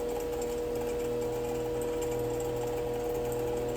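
Steady motorized whir of a buffing wheel polishing a horseshoe rasp knife, a continuous close hum with a faint high whine and no pauses.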